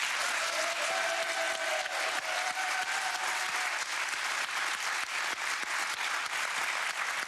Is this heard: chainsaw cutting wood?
no